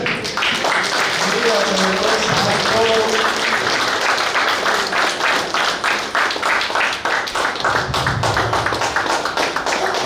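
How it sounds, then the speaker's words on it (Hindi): Audience at a Buddhist gathering in Bhubaneswar, Odisha, breaking into loud, dense rhythmic clapping that runs through the whole stretch, with voices calling out beneath the applause. "ताली को जोड़ मारिए"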